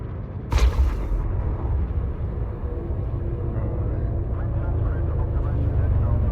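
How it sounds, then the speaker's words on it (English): In the video game Elite Dangerous, a spaceship jumps in very close: a sudden sharp whoosh bursts in nearby, then settles into a deep, sustained rumbling drone that swells slightly as it continues. "That was the sound of a ship jumping in very close to me"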